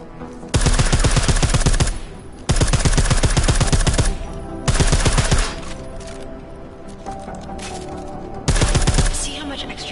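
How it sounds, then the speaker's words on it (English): Suppressed automatic gunfire in a video game comes in four long, rapid bursts separated by brief pauses, each one loud and close, with a dense rattling rhythm throughout. "I like how silencers reduce sound, but the trade-off is less stopping power"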